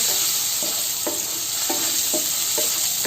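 Onion fries in a pan with a constant oily sizzle, punctuated every half second or so by soft scraping strokes of a spoon stirring it.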